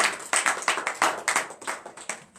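Applause from several hands at a morning church prayer service claps in a fast, irregular patter, fairly close and lively, easing off slightly toward the end.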